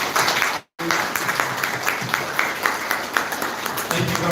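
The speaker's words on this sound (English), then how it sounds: "And can you just clap for them?" Audience clapping for a visiting delegation from India at a booklet launch event, a steady dense patter of many hands that fills the room, broken by a brief cut near the start.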